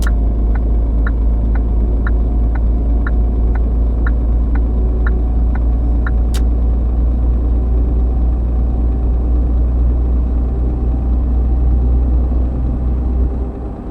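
Truck engine cruising down a motorway in the On the Road driving game, a steady low rumbling drone throughout with a faint regular ticking, like an indicator, in the first half.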